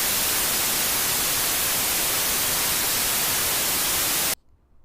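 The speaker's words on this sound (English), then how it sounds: "White noise is used to test equipment and systems" Steady, loud hiss of white noise fills the air evenly, then cuts off abruptly near the end, leaving near silence.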